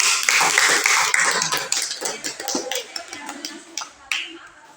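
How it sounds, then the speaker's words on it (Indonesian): Students in a classroom clap for a group that has just presented, a burst of dense applause that starts strong and thins into scattered claps over a few seconds. "tepuk tangan untuk kelompok"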